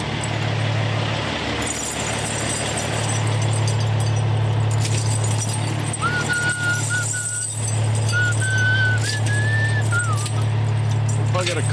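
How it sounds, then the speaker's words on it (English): A person whistles a short melodic tune in brief phrases over a steady low engine-like hum and background clatter, with the whistled notes fairly clear but not loud. "I'll get a copyright strike for whistling"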